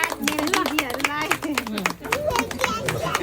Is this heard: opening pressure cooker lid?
no